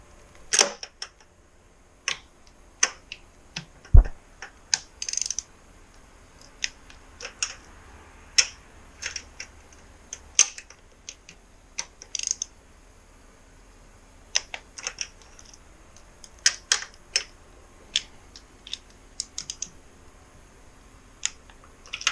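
Torque wrench clicking while tightening bolts on a 2005 Kawasaki Ninja 250 being rebuilt, sharp isolated clicks and ratchet ticks coming in irregular bursts against a quiet background, one dull knock early on.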